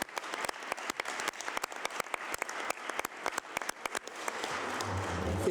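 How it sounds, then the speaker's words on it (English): Audience applause for a panel at a 2014 expo session: a steady wash of many hands clapping for several seconds, with individual claps standing out near the front and a low rumble of room noise rising toward the end. "please join me in extending a warm round of applause for our panelists today"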